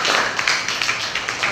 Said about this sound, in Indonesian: Tepuk tangan lagi untuk kita semua.